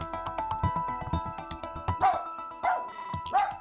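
Several small dogs yapping in quick, sharp barks and yips from outside, a busy overlapping burst of high-pitched barking with a few whimpering notes, fairly faint and distant.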